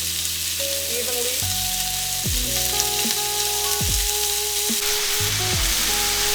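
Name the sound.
chicken thighs sizzling in hot stir-fry pan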